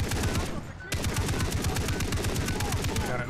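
A heavy gun firing in Far Cry 3, rapid loud automatic bursts with a brief break near the start, then a steady stream of shots with faint talk under it.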